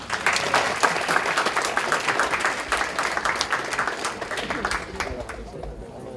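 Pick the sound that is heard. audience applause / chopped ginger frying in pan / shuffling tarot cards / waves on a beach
audience applause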